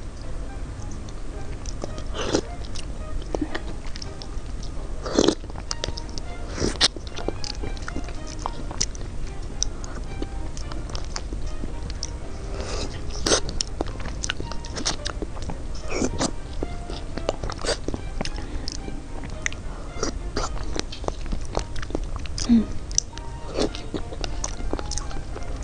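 Close, soft biting and chewing of mochi, with repeated sticky, moist chews and occasional sharper bite sounds running steadily throughout, with no talking.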